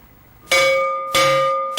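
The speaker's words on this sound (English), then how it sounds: "The sound of the school bell for just a moment breaks the gloom that prevails in Okimat." A school bell clangs at a school in Okimat, Uttarakhand, in three sharp metallic strikes about half a second apart, each ringing out loud and bright over near silence.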